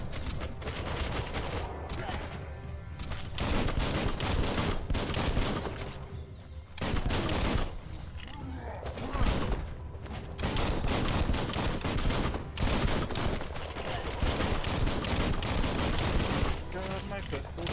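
Pistol gunfire in the video game Biomutant comes as dense, loud bursts of shots layered with game effects and music, with brief lulls between volleys, while a voice talks over parts of it.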